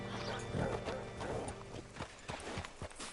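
Horse hooves clip-clop in a PS4 video game, a near, uneven run of hoof strikes that grows sharper and more distinct toward the end, over faint ambient game sound.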